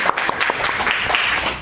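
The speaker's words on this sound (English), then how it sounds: "Give her a big hand of applause." Audience applause at a clothes swap event: a short burst of close, lively clapping from a small crowd, steady and unbroken for its brief length.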